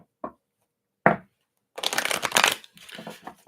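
A deck of reading cards gets a couple of quick taps, then a close, crisp riffle shuffle with rapid fluttering card noise.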